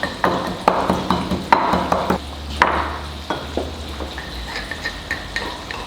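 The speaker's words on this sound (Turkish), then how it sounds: "Gördüğünüz gibi bunu iyice karıştırıyoruz." A spoon scrapes and clinks around a bowl as yogurt is mixed with crushed garlic, giving steady rhythmic strokes with sharp taps at first that soften and slow toward the end.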